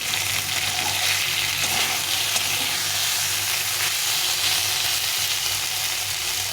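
Potato and pointed gourd masala frying in oil for a vegetarian chhana curry, giving a dense, continuous loud sizzle close up, with faint spoon scrapes beneath.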